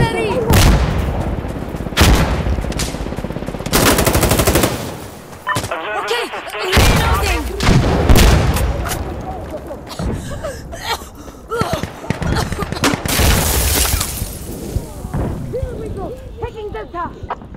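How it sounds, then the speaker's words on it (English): Smoke artillery barrage in the video game Insurgency, heavy booming blasts and gunfire crackling in close bursts, with voices talking over the din between explosions. "Call for smoke artillery!"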